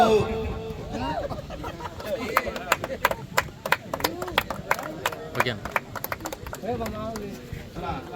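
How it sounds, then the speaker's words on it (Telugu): Crowd clapping at a bullock cart pulling competition prize ceremony: scattered, uneven claps building and fading over several seconds, mixed with someone talking over a loudspeaker and background chatter. "చప్పట్లు చప్పట్లు చప్పట్లు"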